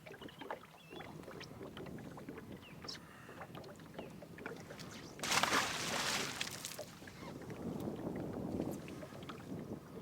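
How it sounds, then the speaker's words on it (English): Wind gusting over open water on a fishing trip from a small boat for catfish and white bass, a steady rushing bluster with a louder buffeting surge midway, under faint water slosh. "that wind picked up and it's getting kind of chilly"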